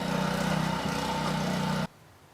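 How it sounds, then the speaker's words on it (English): A lawn mower across the street runs as a steady, loud engine drone, then cuts off abruptly near the end. "I was interrupted by a guy starting a lawnmower across the street"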